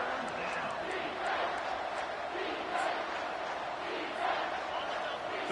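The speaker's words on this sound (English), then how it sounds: "3rd down, and this crowd is tearing the lid off this place." Stadium crowd in a college football video game, a steady, dense roar with swelling cheers and shouts at a moderate distance, continuous throughout with no commentary audible.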